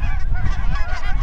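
Snow geese honk overhead during a goose hunt as birds whiffle down toward the decoys, a dense, loud chorus of overlapping nasal calls continuing without pause and with no talk.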